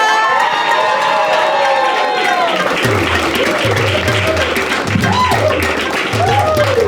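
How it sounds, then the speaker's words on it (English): Audience at a stand-up comedy show claps and cheers loudly and continuously, with a sustained tone and a bouncy musical beat underneath in the second half. "Start clapping, start clapping, start clapping, and give it up for my mom"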